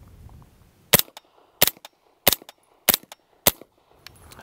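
Five suppressed shots from a B&T SPC9 PDW SD firing subsonic ammunition, each a sharp, fairly loud crack followed by a short action clatter, spaced evenly about two-thirds of a second apart in a quiet outdoor setting.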